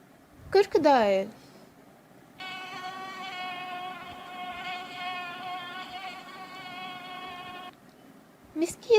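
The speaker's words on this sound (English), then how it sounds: "Mosquito." A mosquito's buzzing whine, a steady tonal drone with rich harmonics lasting about five seconds, sits between short spoken words at the start and the end.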